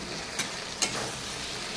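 Sliced ridge gourd sizzling in hot spiced oil in a pan, a steady frying hiss with two brief sharper crackles as it is stirred, close and moderately loud with no voices.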